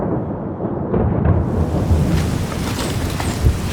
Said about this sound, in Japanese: ものすごい嵐や